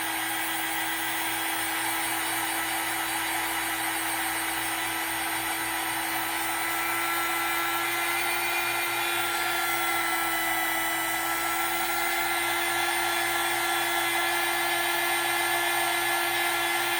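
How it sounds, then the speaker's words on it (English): A heat tool dries a DIY craft project, giving a loud, steady high-pitched whine and airy blowing that runs unbroken for the whole stretch, with no talking over it. "So I'm gonna dry it with my heat tool."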